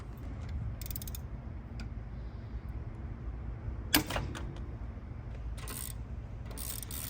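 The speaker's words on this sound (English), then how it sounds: "Once we loosen the first bolt, we're gonna go to the second bolt" A ratchet loosens a downpipe bolt on an Infiniti Q50/Q60, giving faint bursts of quick clicking amid low mechanical creaks and one sharp metallic knock, close by with no talking.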